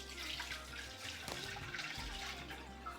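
Milk poured into a pan for making payasam, a steady, soft liquid stream running throughout at close range with no talking.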